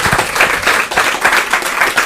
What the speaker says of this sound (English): Let's give a big round of applause to Joshua and to Jillian as well